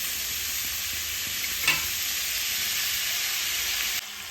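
Rice is stir-fried in a pan with peas and shrimp, giving a steady, loud sizzle with stirring that runs almost throughout and drops off near the end.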